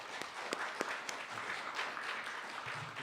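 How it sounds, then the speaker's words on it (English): A small audience claps after a talk, a faint, light, scattered patter of hands with a few sharper claps, fairly quiet and brief. "let's give Sid a big round of applause for that wonderful talk"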